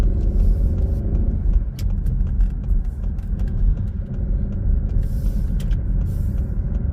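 A car driving along a road near a slip road, with a steady, close engine drone and continuous tyre rumble throughout and no voices.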